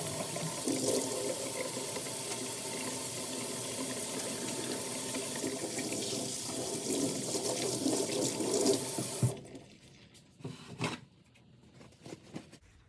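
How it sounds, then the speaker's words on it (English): Tap water runs steadily into a sink for several seconds while hands are washed, then shuts off, leaving a few faint drips and splashes. "The first step is to wash our hands."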